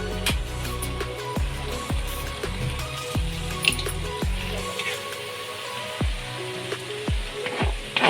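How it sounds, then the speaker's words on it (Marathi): Mixed vegetables for a bhogi-style mixed bhaji sizzle in oil with salt added, a steady close frying hiss broken by regular sharp knocks of a spoon stirring against the pan, no voices. "इथे आपण मीठ घालूया. मीठ घातलं नव्हतं आपण. सफेद तेल सुद्धा घालूया."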